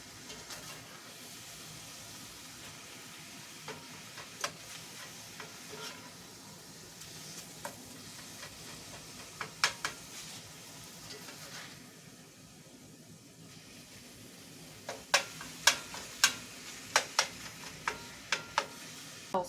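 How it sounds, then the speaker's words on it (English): Hamburger meat fries quietly in a pan while a utensil stirs and scrapes it, producing a faint sizzle punctuated by a series of sharp clicks and taps that grow more frequent toward the end. "I need to stir my hamburger"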